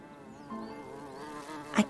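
A bee buzzes continuously in an animated scene, a steady close drone with a short louder burst just before the end.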